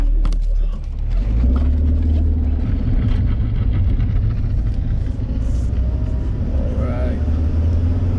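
Toyota Corolla AE86 with a welded differential on a test drive, its engine a steady loud rumble from inside the cabin throughout, with a person speaking briefly over it.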